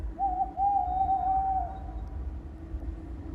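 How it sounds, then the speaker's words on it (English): An owl hoots in a long, drawn-out, wavering call as a sound effect in a narrated night story, loud and alone over a low hum, then fading into quiet background. "The owl hooted indignantly."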